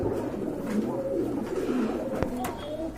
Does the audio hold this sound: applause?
no